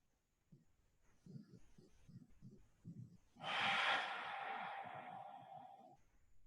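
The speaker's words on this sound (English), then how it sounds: "taking some nice deep cleansing breaths out through your nose" A deep yoga breath through the nose: soft murmured voice, then one long airy exhale rushing loudly for a few seconds before fading.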